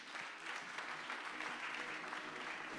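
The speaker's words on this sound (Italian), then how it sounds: "Applausi, musica anche per lui" Steady, even applause from an audience at a literary award ceremony, moderately distant and continuous for a few seconds with no break.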